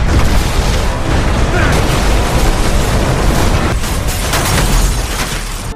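A grenade explosion from the 2013 science-fiction film Elysium sounds as a loud, sustained blast and rumble that fills several seconds, with debris-like crackle tailing off near the end.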